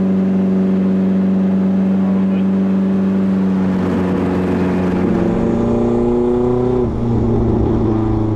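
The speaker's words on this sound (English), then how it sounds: "So dope that it's boosting and blow-off valving." A turbocharged Hyundai Sonata drones steadily under boost, its engine note climbing and shifting, with a blow-off valve release around midway, loud and close throughout.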